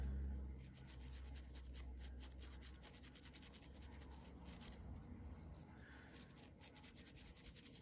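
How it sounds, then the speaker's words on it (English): A paintbrush spreads distress paint over a surface in close, rhythmic bristle strokes that give a steady dry scratching and rubbing, with no talk. "brushing on the paint to make sure that we've got a good coverage"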